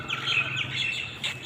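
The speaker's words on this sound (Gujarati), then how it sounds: "સરસ મજાના મોટા મોટા ઝાડો છે એટલે પક્ષીનો અવાજ આવે છે।" Birds chirp and tweet from large trees near a temple gate in Porbandar, a steady run of bright, overlapping calls at moderate distance over a low background hum, with no talking.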